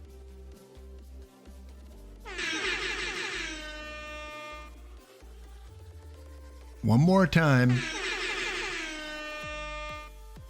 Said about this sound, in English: I don't know if the air horn came over